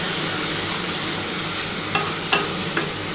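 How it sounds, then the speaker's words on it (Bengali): Spice paste with chili powder and a little sugar frying in a pan, a steady close sizzle throughout with a few faint stirring scrapes near the end. "এবার এটা ভালো করে কষাতে হবে।"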